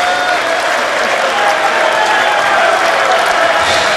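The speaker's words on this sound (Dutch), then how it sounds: "Ook het applaus dat geeft Stompee aan moet ook voor Walton gelden." Steady applause from a large crowd at a 2005 International Darts League match, dense and continuous clapping filling the whole stretch with a faint murmur of voices beneath.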